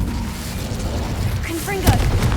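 A spell cast in Hogwarts Legacy: a short rising whoosh followed by a sharp bright crack near the end, set over a steady low rumble of game ambience.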